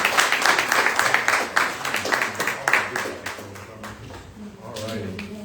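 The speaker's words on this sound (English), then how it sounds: "can we please give a round of applause?" An audience claps at a homebuying seminar, a burst of brisk, fairly close applause that fades out after a few seconds, with a voice speaking over it.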